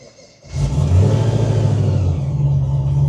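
A Rotrex-supercharged 5th-gen car engine cranks and catches after a short quiet moment, then holds a loud, steady rev with a deep rumble and a higher whine laid over it, running alone with no talk.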